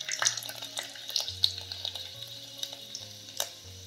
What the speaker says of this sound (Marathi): चांगला तळायला बघा लसूण